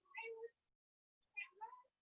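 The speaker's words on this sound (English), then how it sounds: "my cat is trying to talk to me" A domestic cat meows twice at close range, a short vocal call followed by a second after a brief pause, with no other sound around it.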